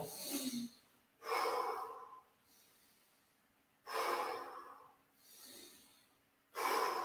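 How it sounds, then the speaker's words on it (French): Deep, slow abdominal breaths during a guided breathing exercise, four long audible inhales and exhales close to the microphone with quiet pauses between them. "On fait 3 respirations ensemble."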